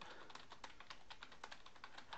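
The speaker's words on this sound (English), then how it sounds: "I can highlight it and hit Control plus B" Computer keyboard keys are pressed in a quick, steady run of soft clicks, close and faint, as text is highlighted and bolded with a shortcut in a text editor.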